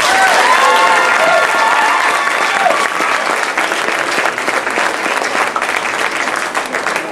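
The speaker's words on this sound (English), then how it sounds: "Big round of applause." An audience at an idea contest awards ceremony applauds a prize winner. The clapping is loud, close and sustained, and thins slightly toward the end. A few voices are heard faintly underneath.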